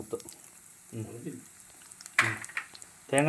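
Chopped coconut frying in hot coconut oil in a clay pot, crackling in short bursts and stirring clatter, with a person talking in between.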